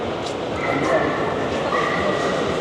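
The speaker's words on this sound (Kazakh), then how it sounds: "Орта Азияның овчаркасы. Төбеті, алабай." A Central Asian Shepherd dog (alabai) gives a few short yips and whimpering barks close by, with someone talking over them.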